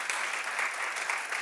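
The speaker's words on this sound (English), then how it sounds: "a big applause for Thomas" Conference audience applauding a speaker on stage, a steady dense patter of many hands clapping at moderate volume with no talk over it.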